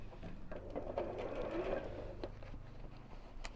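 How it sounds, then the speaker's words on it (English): A sewing machine stitching around the top of a sewing project, a continuous close mechanical whir with a rapid needle rhythm, running alone for a few seconds before easing off. "I'm just going to sew all the way around the top."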